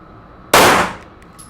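A single live handgun shot is fired during a draw from the holster, a sharp, loud close crack with a brief ringing decay.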